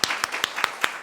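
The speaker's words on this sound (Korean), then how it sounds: "박수." A short burst of rhythmic clapping from a church congregation at a Sunday service, about six sharp, evenly spaced claps in unison, close and clear.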